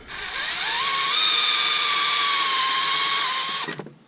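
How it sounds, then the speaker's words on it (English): A power drill whines steadily at high speed for a few seconds, pitch rising as it bites into a sapele wood bowl to bore a 7mm screw hole, then winds down abruptly. "Let's drill myself a woodworm screw hole."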